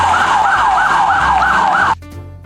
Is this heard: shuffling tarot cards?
no